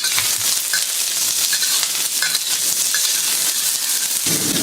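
Chopped onion, garlic and ginger stir-fry in a hot wok with a loud, continuous sizzle and occasional light clicks of the utensil, fading down at the very end.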